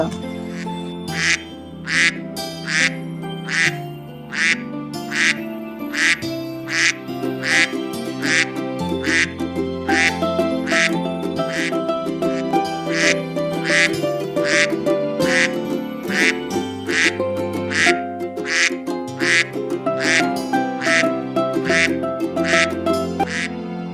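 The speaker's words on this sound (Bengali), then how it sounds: "বড় হাঁসটি সে ঘর থেকে বাইরে বেরিয়ে তার বাচ্চাদের দিকে চলে যায় এবং তাদেরকে ডাকে" A cartoon goose in a village calls out to its chicks with a steady run of loud, evenly spaced quacking honks lasting the whole stretch, over continuous background music.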